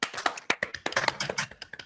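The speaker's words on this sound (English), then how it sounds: "then we can all give a round of applause" Scattered claps and taps from participants in an online meeting, sharp uneven transients arriving in a loose ragged burst over about two seconds, close and fairly quiet.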